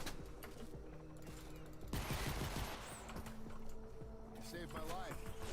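Rapid bursts of gunfire in the video game Fortnite Save the World crackle in a dense rattling volley, with softer clicks and game effects around it, heard at a low level.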